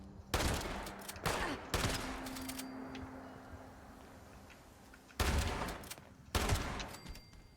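Shotgun blasts in the video game Fallout 76, four loud sharp booms spaced a few seconds apart, each trailing off into a fading echo over quiet ambience.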